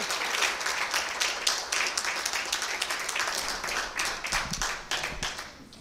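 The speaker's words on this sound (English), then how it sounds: "Another round of applause for Honorable JB" Steady applause from an audience at a policy launch event, dense clapping sustained throughout at a fairly even level, with slight swells and no talk over it.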